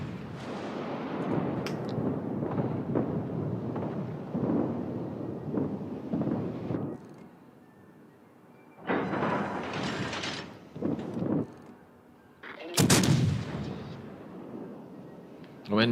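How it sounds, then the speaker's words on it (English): Naval ship gunfire in a video game comes as several heavy booming bursts of rumbling blasts separated by quieter gaps, with a sharp loud report near the end, while people talk throughout. "she turns in and she fires on us"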